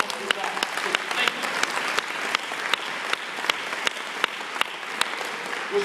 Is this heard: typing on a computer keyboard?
no